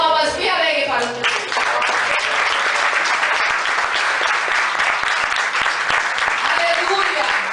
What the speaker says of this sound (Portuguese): As palmas bem alegres para o Deus.